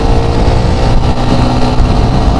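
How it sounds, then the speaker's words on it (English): A Yamaha YZF R15 V3 motorcycle engine revs hard and close, a loud continuous buzzing drone held at high revs for a couple of seconds with slight fluctuation and no talk. "So revving the motor"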